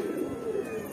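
A pigeon coos softly in a low, rounded murmur, faint and brief against a quiet outdoor background.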